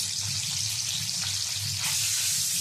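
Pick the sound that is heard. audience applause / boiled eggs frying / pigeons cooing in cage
boiled eggs frying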